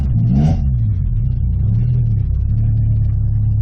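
A Honda B20 VTEC engine revs up and settles into a steady mid-pitched hum on a test drive, loud and continuous from start to finish with a brief rising rev near the beginning.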